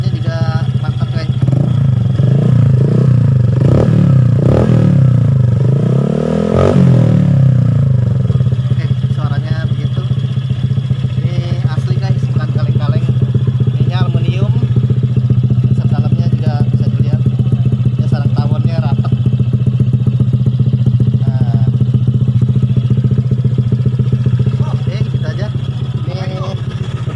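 Honda Vario 125/150 motorcycle fitted with a Black Devil aluminium exhaust, idling loud and close with a steady low rumble, sharp revs in the first seconds, then a long even drone.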